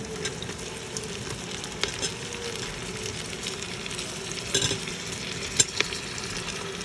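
Tomatoes tipped into a pan of frying chillies, capsicum and carrots for a Punjabi tomato soup, giving a steady close sizzle with intermittent spoon scrapes and stirring clatter throughout.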